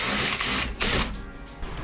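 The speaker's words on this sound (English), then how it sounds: "I'm going to drill straight through." A drill bores through a metal ute tub, a close, loud grinding rattle in short bursts with brief dips as the bit bites, no one talking.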